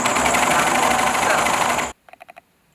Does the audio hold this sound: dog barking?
no